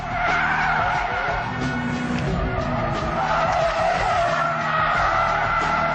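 A car with traction control switched off slides sideways, its tyres skidding and squealing continuously and loudly over a roaring engine during a sideways drifting challenge.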